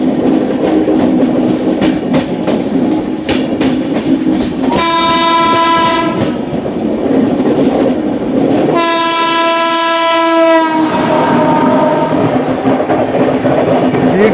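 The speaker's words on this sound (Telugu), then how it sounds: "12655 Navjivan super fast express Ahmedabad junction Chennai central Navjivan super fast express" The Navajeevan Superfast Express, running Ahmedabad Junction to Chennai Central, sounds two long, loud horn blasts while passing, over continuous rumble and clickety-clack of wheels on track.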